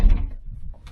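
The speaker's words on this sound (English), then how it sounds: "Close up the front door." A front door swings shut with a single low thud at the start, followed by a fading rattle and soft settling noise, close and alone.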